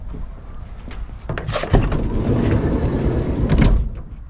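A Vauxhall Vivaro van's sliding side door is worked: a click and thump, then a long rolling slide that ends in a solid clunk, heard close by with no talking.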